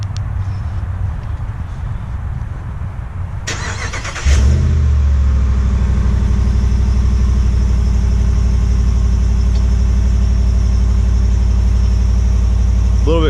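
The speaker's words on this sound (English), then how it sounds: "So let's go ahead and start the Ram up." A 2019 Ram 1500 pickup cranks briefly and catches at about four seconds, then settles into a loud, steady, deep idle inside a heated garage, with no talking.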